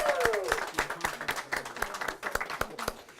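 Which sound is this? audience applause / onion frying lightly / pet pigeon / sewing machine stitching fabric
audience applause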